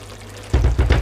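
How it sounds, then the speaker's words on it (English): Water, about half a cup, is poured into a pan of keema matar mince and pea curry, making several close, gurgling splashes after a quiet start. "I'm also going to go in with around half a cup of water and just let that come up to a simmer."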